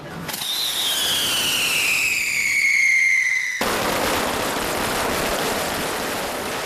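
Fireworks at a Mazu goddess festival procession in Taiwan before dawn: a loud, high whistle slides downward for a few seconds, then cuts abruptly into a dense, continuous crackle of firecrackers bursting close by.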